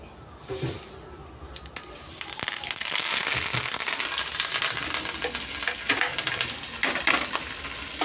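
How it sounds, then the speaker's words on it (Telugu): Curry leaves, cumin, mustard seeds and dried chillies hitting hot oil for a ginger chutney tempering, a loud crackling sizzle that surges after a couple of seconds and stays dense and close throughout. "అల్లం పచ్చడి తాలింపు పెట్టుకుందామండి కరివేపాకు జీలకర్ర ఆవాలు ఎండుమిర్చి"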